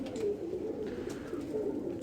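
A pigeon coos softly and repeatedly nearby, a low rolling warble that rises and falls without pause.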